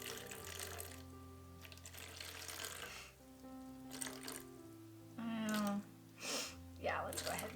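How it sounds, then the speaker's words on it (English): Water is poured into a cup resting on a kitchen scale, a short run of splashing trickle that rises near the end, set against steady background music. "let's go ahead and put in about 7 ounces of water"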